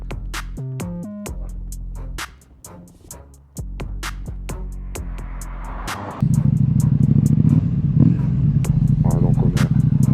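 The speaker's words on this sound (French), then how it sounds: "on a quand même une très belle sonorité là, avec les échappements, le double échappement" A KTM 790 motorcycle engine rumbles through its dual exhaust, loud and close, idling with a few sharp blips before settling into a sustained, deeper throaty drone.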